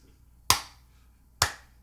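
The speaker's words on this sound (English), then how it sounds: "And then I need you to clap it like an alligator." A pair of hands claps twice in a quiet room, opening and shutting like alligator jaws: two sharp, close, moderately loud claps about a second apart with near silence around them.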